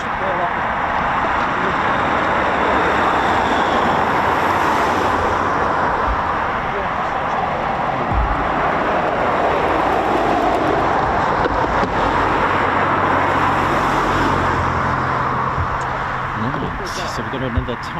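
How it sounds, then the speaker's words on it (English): A Eurofighter Typhoon FGR4 jet taxis at an RAF airfield, giving a steady, loud broadband roar that holds for the whole stretch, with wind buffeting the microphone throughout. "So we've got another Typhoon just taxiing now"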